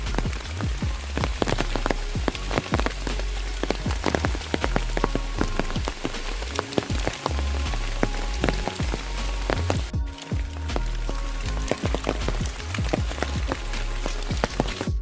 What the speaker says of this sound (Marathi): असं वाटतं की त्या पावसाने कायमची सुरुवात केली.